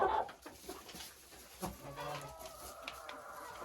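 Young Ameraucana hens, about seven months old, clucking softly in a coop, with a few faint, scattered calls over quiet background noise.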